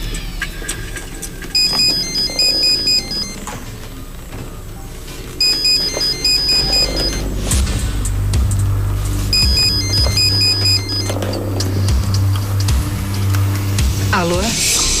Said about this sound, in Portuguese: No meio da madrugada,